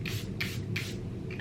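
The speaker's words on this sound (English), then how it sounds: "this is the new Powder Melt Glass Setting Spray from One Size Beauty" One Size Powder Melt Glass setting spray mists onto a face in four quick, evenly spaced pumps, each a short airy hiss close to the listener.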